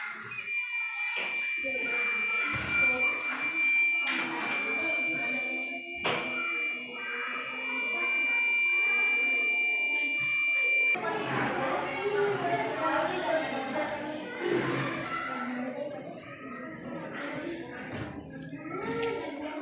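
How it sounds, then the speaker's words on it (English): A smoke sensor alarm buzzer on a children's robotics kit drones a steady electronic tone through the first half, with children chattering and a busy room in the background; the beep then stops while talk continues. "the alarm beeps and red light on"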